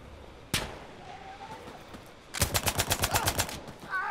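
Sterling SMG gunfire in a video game: a single sharp shot, then a rapid burst of about a dozen evenly spaced rounds, loud and close.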